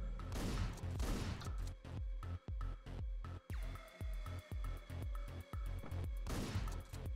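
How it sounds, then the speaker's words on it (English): A combat shotgun firing repeatedly in the video game Hotline Miami 2, a rapid series of sharp blasts in quick succession, loud and close over game music, with no talk. "The combat shotgun."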